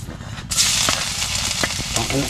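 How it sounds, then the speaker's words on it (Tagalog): Onions and aromatics sautéing in a hot oil pan for talong, a steady broadband sizzle that flares up suddenly and holds loud, with a few stirring clacks and brief talk at the close. "Gigisa na ako."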